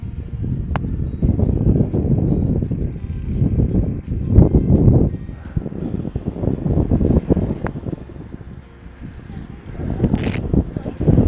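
Strong gusty wind buffets the microphone outdoors on a golf course at St Andrews, a low roaring rumble that swells and fades throughout, with a brief faint high whine near the end.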